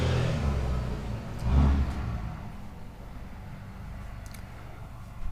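A vehicle rumbles past with a low engine drone, swelling briefly louder then fading into a steady background hum.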